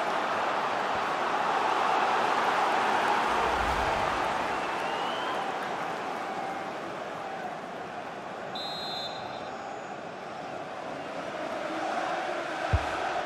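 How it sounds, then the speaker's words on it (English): Stadium crowd in the FIFA 22 football game waits for a set piece in a 90s Manchester United career match. It makes a steady, dense roar of many voices that swells and eases slightly, with a brief thump near the end. "Well, just listen to the crowd."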